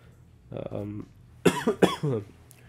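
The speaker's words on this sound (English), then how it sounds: "Sorry about the coughing" Several harsh coughs in quick bursts, close and fairly loud, with a short pause between an earlier cough and a cluster of three.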